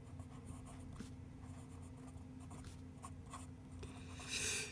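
A Daiso fountain pen with a medium nib writing on paper, a faint close scratching of short strokes and pauses, ending in a brief louder rustle.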